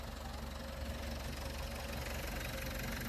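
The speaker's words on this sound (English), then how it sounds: "the tractor coming in is getting the pull start" A John Deere two-cylinder tractor, recently repaired, runs in winter while being pull-started. Its engine gives a steady, faint, knocking chug that continues throughout with no voices over it.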